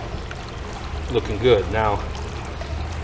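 A leaf fountain runs at its lowest setting, water pouring and trickling softly beneath a voice briefly speaking.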